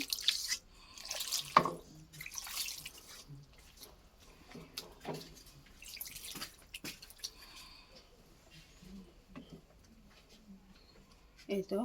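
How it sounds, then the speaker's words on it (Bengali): Water poured into a cooking pot in a home kitchen, heard as brief splashes and drips between pauses, fairly quiet, with someone talking over the sounds. "এখন আমি পরিমাণ মতো পানি দিয়ে দিব এখানে"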